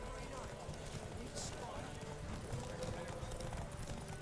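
A horse gallops in The Witcher 3 video game, its rhythmic hoofbeats running steadily at moderate volume under someone talking.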